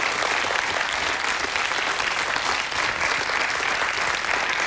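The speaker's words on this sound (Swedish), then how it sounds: "Kära publik, en varm applåd till Bo Rönnberg." A studio audience at a Swedish television entertainment show gives warm applause to a guest: dense, loud, sustained clapping from a large crowd that fills the whole stretch without a break, with no voices heard over it.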